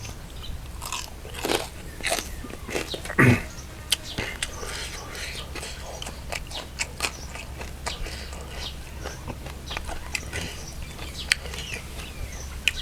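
Crunchy bites and chewing of Thai papaya salad with crispy pork, repeated close crisp crunches over steady soft background noise, with occasional quiet talk.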